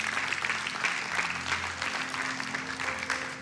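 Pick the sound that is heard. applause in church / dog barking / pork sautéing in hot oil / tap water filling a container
applause in church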